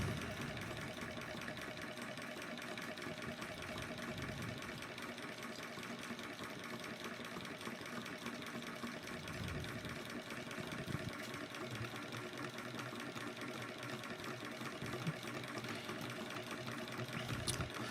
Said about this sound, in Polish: Mamy już silnik Ricksona pompujący wodę.